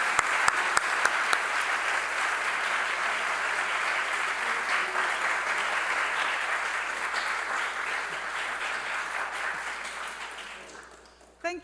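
An audience at the Athenaeum of Philadelphia applauds to welcome a speaker, steady dense clapping from a full room that holds for about ten seconds, then fades out.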